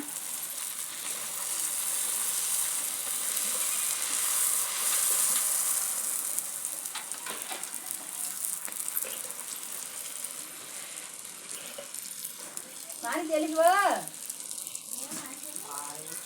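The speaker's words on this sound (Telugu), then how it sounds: "పూరీలు అయితే కాలుస్తున్నాను నేను నూనె అయితే వేడిగా ఉన్నదన్నమాట" Puris frying in hot oil: a steady, close sizzle and crackle throughout, with a few stirring clinks and a brief voice near the end.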